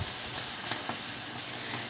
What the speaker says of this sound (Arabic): في اللحظه دي هنزل بالمشروم بتاعي واقلب.